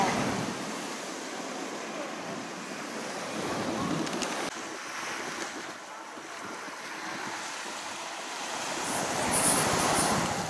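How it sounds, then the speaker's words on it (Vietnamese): Ocean waves break and wash onto shore at Indian Rocks Beach, Florida, a loud, continuous roar that swells and recedes under wind buffeting on the microphone. "cái tiếng sóng biển mới ghê luôn."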